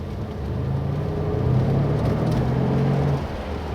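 A 2020 Mercedes-AMG C63 S estate pulls forward with a steady engine rumble that swells as it accelerates, then drops back slightly near the end, heard close from inside the car.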